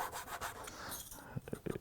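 A small saw rasps through a soft wood boat hull in short, quick strokes, close and fairly quiet, with a few sharper scrapes near the end.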